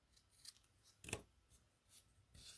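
Scissors snip through ribbon strands on a handmade holly-trimmed pocket-tag gift card holder, with a few soft, quiet cuts spread across the moment and one sharper, closer snip in the middle.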